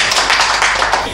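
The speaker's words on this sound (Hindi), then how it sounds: "तालियों से स्वागत कीजिए महिलाएं।" A brief burst of applause from women welcoming a guest at a community gathering on human rights, a dense patter of clapping, close and loud.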